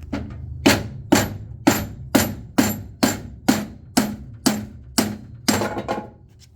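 A hammer strikes repeatedly at a ball hitch on a 1961 Citroen DS wagon, about eleven sharp metallic whacks at an even, steady rhythm, loud and close with no talking.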